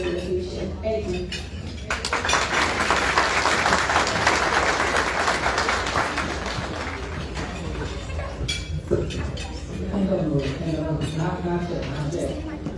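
Warm applause fills a room at a scholarship luncheon, a sustained burst of clapping from the seated crowd that builds, holds and then tapers off, with people's voices and faint dish clinks around it.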